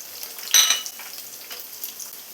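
Urad dal, shallots, garlic and a small piece of tamarind fry in a pan for a drumstick-leaf chutney, giving a soft sizzle with one brief, brighter stirring hiss, fairly quiet and without talk.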